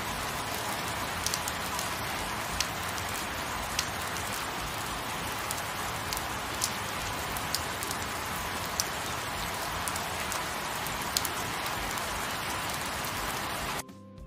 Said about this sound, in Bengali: ঝুম বৃষ্টি শুরু হলো